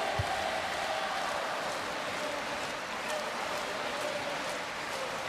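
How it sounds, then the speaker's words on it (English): Volleyball crowd at a Poland versus Brazil VNL 2024 quarter-final chanting Yellow Submarine, a steady, dense wash of many distant voices filling the arena throughout. "The crowd carries on with Yellow Submarine."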